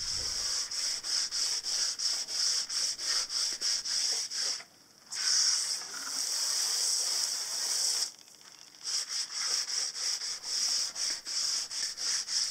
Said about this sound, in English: I think actually I'm using 50 grit right now just to cut it back a little faster.